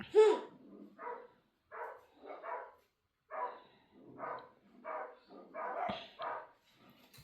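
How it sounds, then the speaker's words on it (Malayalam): Dogs bark in a run of separate close barks at a steady, fairly quick rhythm, moderately loud and with no speech over them. "പട്ടിയെല്ലാം കൂടെ കുരയ്ക്കുക"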